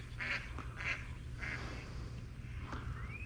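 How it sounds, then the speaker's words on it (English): Mallard ducks at an outdoor pond: a few scattered, soft nasal quacks at moderate distance over a low steady background rumble, with a brief higher call near the end. "Some of the mallards."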